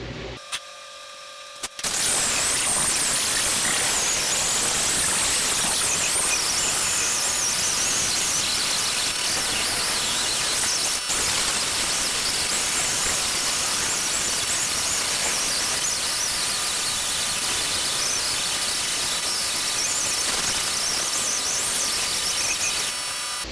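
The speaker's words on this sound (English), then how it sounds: "Let me go find my little die grinder." A small die grinder grinds paint and primer off a car's quarter panel during a repair, a loud continuous high-pitched whine and squeal that runs steadily for over twenty seconds after a brief quiet start, with no talking.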